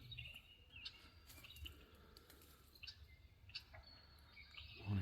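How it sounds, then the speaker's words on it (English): Red-winged blackbirds call outdoors in a scattered run of short, faint chirps and trills over a soft natural background, with no voices. "Red-winged blackbirds."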